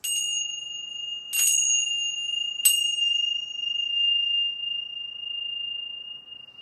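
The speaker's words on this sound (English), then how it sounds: "I'm going to do my chimes." Three bright chime strikes ring out one after another, each leaving a long, clear shimmering tone that sustains through quiet background.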